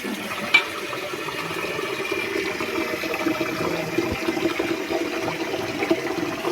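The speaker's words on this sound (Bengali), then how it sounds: "এরকম করে কল খুলে দেবেন। সয়াবিনটাকে এরকম করে ধুয়ে দেবেন।" Tap water runs steadily over soybean chunks being washed, a continuous close splashing rush with occasional small knocks, no talking.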